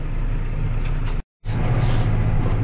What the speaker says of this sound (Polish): Też jadę ciągnikiem.